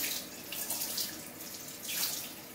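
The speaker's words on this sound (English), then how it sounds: "this time I'm going to rinse my sponge because I want to go in with the lightest color" Paint sponge being rinsed in water while painting a tree in acrylics, giving a steady close splashing and sloshing wash with a couple of stronger surges, no talk.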